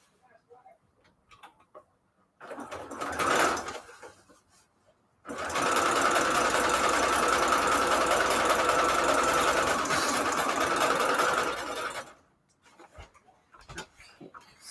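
A sewing machine stitches junk journal signatures in a steady, loud run of about seven seconds, preceded by a brief burst of stitching and quiet handling noises, with no talking.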